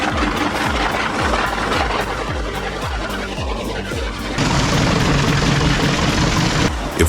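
A large wood chipper with about 750 horsepower driving its blades roars as it shreds tree trunks, a heavy, constant engine drone with rhythmic chopping pulses that swells louder and harsher partway through.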